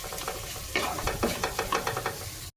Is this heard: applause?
no